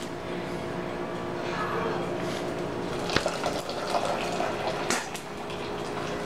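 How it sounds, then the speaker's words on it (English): Hot water pouring out of a boil-in-bag rice pouch in a kitchen, a steady close splashing gush with a few louder spatters and drips. "And drain the water out of the bag."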